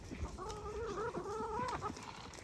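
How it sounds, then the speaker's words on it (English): Chickens of mixed breeds, including Araucanas, Rhode Island Reds and Barred Rocks, cluck and warble on a farm in Honaunau, with a repeated rising-falling call over a soft outdoor background, moderately close and without talk. "Quite a few different varieties of chickens, the Aracanas, the Rhode Island Reds, Barred Rocks."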